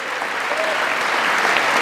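Steady applause from an audience at Trump's State of the Union address, a dense, even wash of clapping that holds at a constant loud level throughout.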